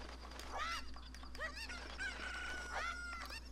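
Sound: chicken (cucco) clucking in video game The Legend of Zelda

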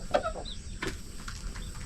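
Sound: chickens clucking in a coop

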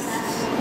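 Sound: Japanese Shinkansen high-speed bullet train

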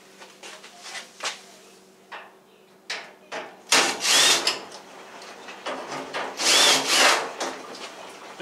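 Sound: removing screws from a Whirlpool dryer panel

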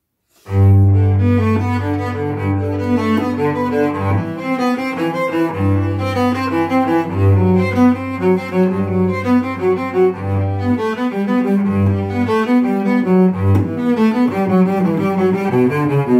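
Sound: cello playing

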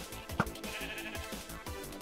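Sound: sheep bleating when hit in Minecraft UHC video game

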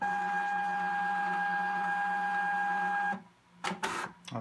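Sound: Zebra label printer running self-calibration

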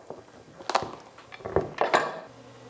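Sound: knife cutting into hard raw pumpkin

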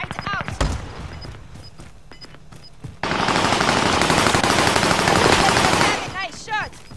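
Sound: gunfire in an online shooter video game

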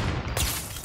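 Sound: gunshot in a sniper video game

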